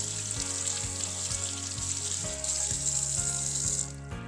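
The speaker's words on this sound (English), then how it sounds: "When you rinse your asparagus, just run it through, paying close attention to the edges." Asparagus rinsed under a running kitchen tap: a steady, close rush of water splashing over the spears, with no talk, cutting off just before the end.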